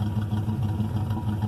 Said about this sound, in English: Something else interesting about this is it's got dual exhaust